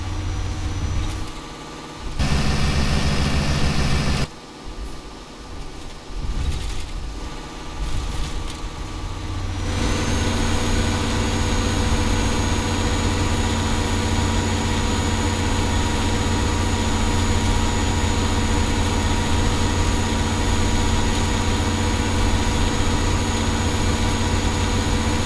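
A Mercedes-Benz 1418 truck in Euro Truck Simulator 2 hauls a forestry B-train at low speed, its engine a steady, heavy drone with a constant low hum, uneven at first and then settling into a continuous rumble.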